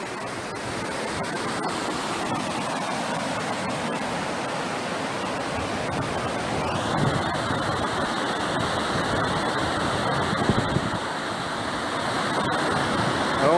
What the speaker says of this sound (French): on voit toujours l'eau qui passe en dessous, c'est très impressionnant